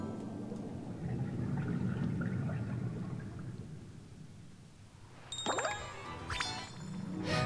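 A chime ringing in the video game Paper Mario: The Origami King, two bright sparkling metallic dings near the end that rise clearly over a soft, murky ambient bed.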